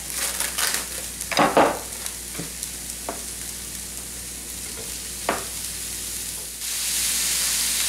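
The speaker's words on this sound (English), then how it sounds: "Let's go ahead and put the ground beef in here." Ground beef sizzles in a pan with Italian sausage as it is stirred, a steady close frying hiss broken by a few scraping pushes, with the sizzle swelling near the end.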